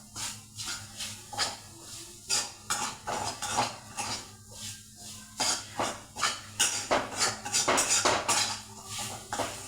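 Peanuts being stir-fried in a pan until brown, giving a steady run of bright scraping and clinking strokes of a spoon against the metal, close and fairly loud, with no voices.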